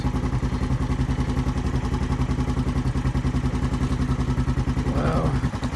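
A four-wheeler ATV engine runs with a fast, steady, pulsing chug that stays loud and close throughout, ending with a brief rough stumble.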